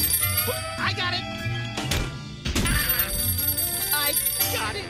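A telephone rings repeatedly in the Sam and Max point-and-click game, its bright electronic trill cutting in over game music and effects with voices talking around it.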